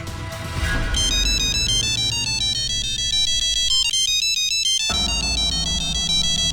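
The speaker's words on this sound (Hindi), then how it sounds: "उषा दीदी का फोन है" Phone ringtone playing a bright repeating electronic melody that drops out briefly before resuming, loud and close with no talk.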